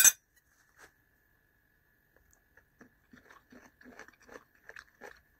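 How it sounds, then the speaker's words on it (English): Crunchy chicken and egg fried rice with carrot and peas being chewed close to the mic, a string of soft crunches and bites that builds after a quiet start. "Can you hear that crunchiness of the carrot and the peas and the chicken?"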